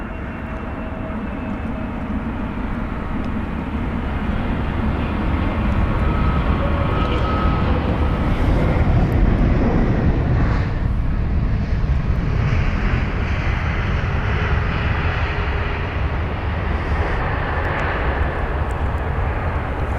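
Scandinavian Airbus A320neo jet, six years old and arriving from Stockholm, roars in at London Heathrow. The loud, broad engine rumble swells to a peak near the middle, then eases but stays strong, with no voices.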